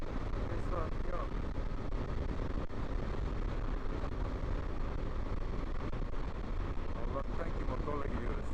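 A BMW R1200 GS motorcycle rides through traffic, its engine rumbling steadily under heavy wind rush, while a rider talks over the continuous noise.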